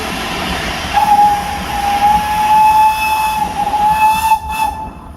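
A steam engine whistle sounds in long, sustained blasts over a hissing, chugging background at a steam engine show in Sycamore, Illinois, loud and fairly close, with a short break before it resumes.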